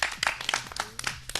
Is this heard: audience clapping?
yes